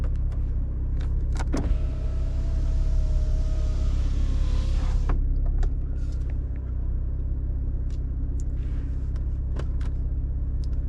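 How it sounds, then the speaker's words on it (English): Electric motor whir of the power soft top lowering on a BMW Z4 M40i convertible, a steady rising whine for several seconds over the idling engine rumble, ending with mechanical clicks and latching clunks. "put the top down, you just hold the switch down"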